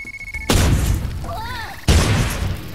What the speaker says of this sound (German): Mine Instant Explosion FTW.